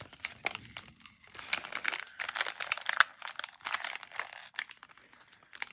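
Paper wrapping on a 12-day advent calendar gets torn open up close, a busy run of crinkling, crunching and ripping noises at low volume, with no voices.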